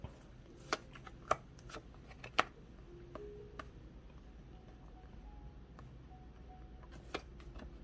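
Tarot cards shuffled and flipped over on a table during a reading, with soft repeated sharp card slaps and clicks over a low quiet background hum, close and fairly faint, no talking.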